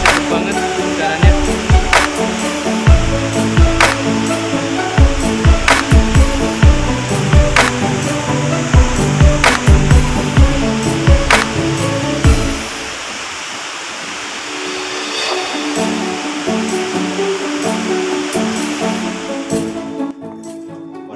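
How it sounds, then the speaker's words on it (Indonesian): Loud, continuous roar of the Curug Cipendok waterfall with misty spray, close and dominant, softening slightly toward the end, with no talk. "suara air terjun sangat keras dan berkabut"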